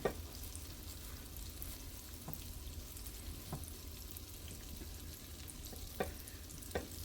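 Buttermilk-battered chicken frying in oil in a Lodge cast iron pan, a steady close sizzle with a few soft clicks and taps over it, no talking.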